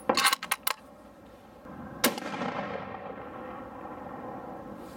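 Outdoor gunshots fired at a steel disc brake caliper: a quick burst of four sharp cracks, then a single loud shot about two seconds later, each followed by a rolling echo.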